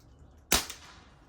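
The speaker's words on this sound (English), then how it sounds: "I'm gonna shoot from the bag and hope I hit something." One sharp, close crack from a 1981 Crosman Model 1 pellet air rifle fired from a rest, dying away quickly into quiet.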